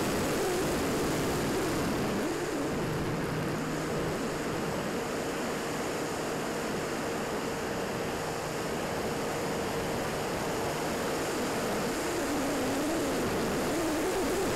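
A Volantex Ranger 1600 RC plane flies overhead with a continuous electric propeller whine and airy rushing noise, steady and fairly distant throughout.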